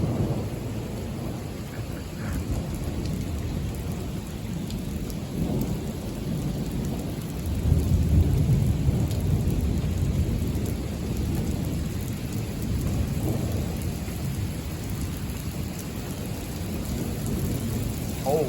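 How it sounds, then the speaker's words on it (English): Heavy rain pouring down during an intense thunderstorm with thunder rumbling overhead, a dense continuous roar of rainfall with a deeper swell of thunder partway through. "That thunder's right over us, isn't it?"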